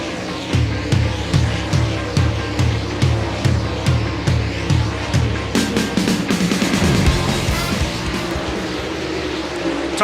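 Dirt late model race cars on a sunny hot lap session at Mississippi Thunder Speedway, a loud steady engine roar with rhythmic pulsing as cars pass, rising into a brighter surge midway.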